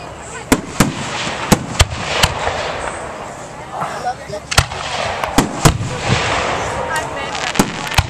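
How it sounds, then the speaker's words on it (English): Fourth of July fireworks bang repeatedly at uneven intervals, sharp cracks over a crowd's murmur, with scattered crackling in between. "It goes up, it explodes, life's over."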